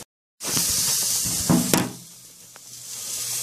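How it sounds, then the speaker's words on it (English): Sausages sizzle and spit steadily in a hot frying pan, close up, with a few sharp crackles and pops breaking through the hiss. "You can hear them proper sizzling away, lovely."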